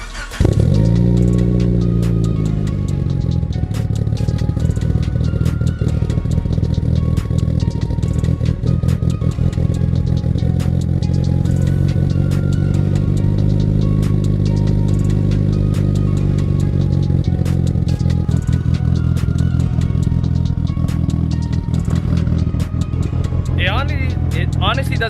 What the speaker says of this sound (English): Here is the cold start with the test pipe.